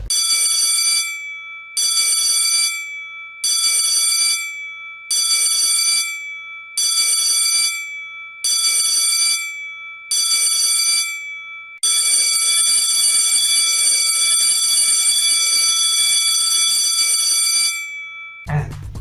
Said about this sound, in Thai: seven short and one long blast